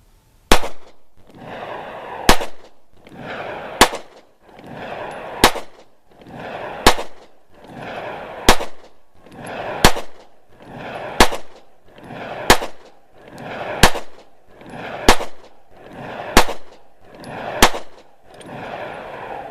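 A Taurus PT111 pistol fires Hornady personal defense rounds in about fourteen evenly spaced, sharp, loud reports, each followed by a brief echoing tail, with no talk between shots.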